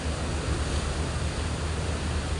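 Constant broadband wash of sea waves and wind heard from a boat heading to Polillo Island, steady and fairly loud with no talk over it.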